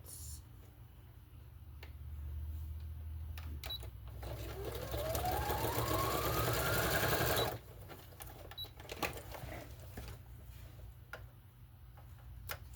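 Sewing machine stitching a craft piece, a quiet continuous whirring run with faint ticking clicks, rising briefly in pitch before stopping, followed by a few light mechanical taps and handling noises.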